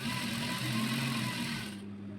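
A sewing machine runs straight stitches to the end of a fabric piece for a shirred dress, a quiet steady hum that fades near the end.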